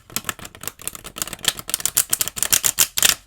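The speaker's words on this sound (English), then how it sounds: "I'm going to do one more shuffle because that one was a little messy" Tarot cards being shuffled by hand, a quick run of crisp, close riffling flicks and taps with no talking.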